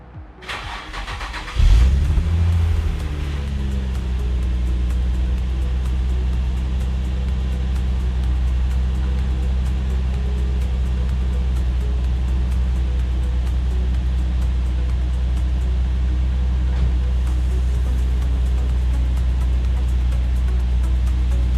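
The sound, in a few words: car engine starting and running, sounds like Nissan VQ engine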